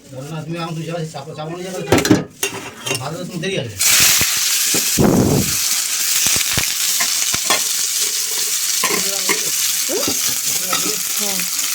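Potatoes frying in a pan on a home stove, a loud steady sizzle taking over after a few seconds of someone talking and clattering, with occasional stirring knocks.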